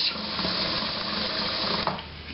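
Kitchen sink faucet water runs in a steady, full rush close by while country-style pinto beans with ham hocks are being cooked, with a small clunk near the end and no talk.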